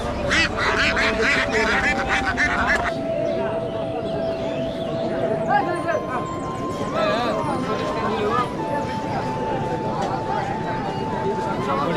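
Domestic ducks quack and honk amid a busy rural village market in Belabo, Narsingdi, with people talking nearby over a steady background tone.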